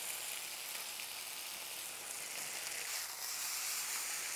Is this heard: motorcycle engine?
no